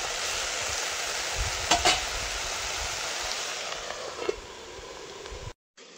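Mixed leafy greens with lentil dumplings fry in a pan, a steady close sizzle with a couple of brief clinks of a stirring utensil before the sound cuts off.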